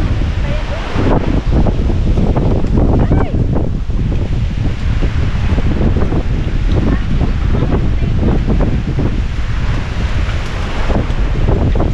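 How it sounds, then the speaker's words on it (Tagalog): Strong wind buffets the microphone in a loud, constant roar, with surf-like rumbling and occasional voices speaking Filipino beneath it. "lakas ng hangin"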